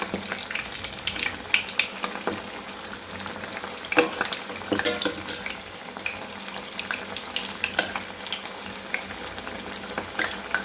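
Chana dal vadai with drumstick leaves frying in hot oil and being turned, a steady crackling sizzle with scattered sharp pops and occasional spoon scrapes, close with no talk.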